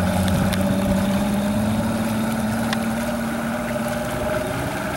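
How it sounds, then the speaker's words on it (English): A 150 outboard on a 1997 Proline 21 walkaround cuddy idles steadily and close by, a smooth low hum with a faint mid tone running unbroken and fairly quiet, with no talk over it. "As you can tell, the engine is extremely quiet."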